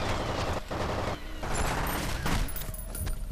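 Short three-round bursts from an SMG in F.E.A.R., loud and dense, with several rapid volleys cracking over one another and a gritty, continuous action-game din filling the gaps between them.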